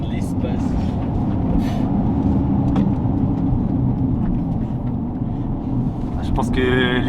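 A Lotus Eletre SUV accelerates hard, giving a dense, steady roar of road and drivetrain noise heard from inside the cabin, with occasional faint sounds near the end.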